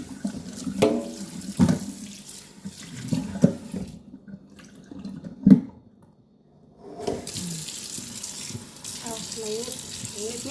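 Hot tap water runs into a kitchen sink for washing vegetables, a close rushing stream broken by clunks and splashes, a brief quiet gap, then the flow starting again.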